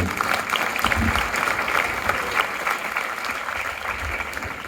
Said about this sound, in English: Let's clap for these people.